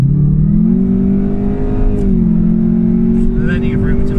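Jaguar F-Type P300 accelerating toward 100 km/h, a loud steady engine drone rising in pitch, then easing briefly after a gear change before building again, with someone talking over it.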